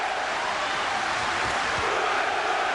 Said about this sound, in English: They're singing upstairs. They're cheering downstairs. The applause is building.